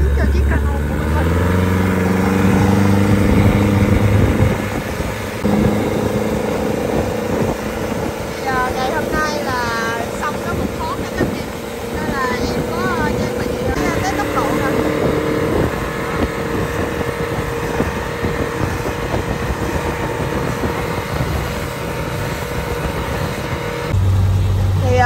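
A 6.3 m motorboat with a Yamaha 50hp outboard runs at speed on a river in Hau Giang, its engine a loud, steady drone with wind and water rush, while someone talks over it.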